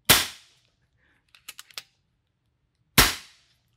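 An FX Impact M3 air rifle fires twice at a shooting target, two sharp, loud cracks about three seconds apart, with a quick run of small mechanical clicks in the quiet between them.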